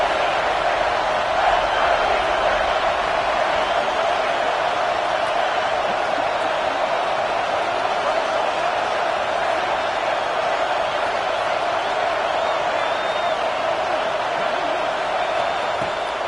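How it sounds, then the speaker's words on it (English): A football stadium crowd roars for the home defense on third down, a dense, steady wall of cheering that holds for the whole stretch with faint whoops rising out of it. "This crowd knows this defense needs them right now."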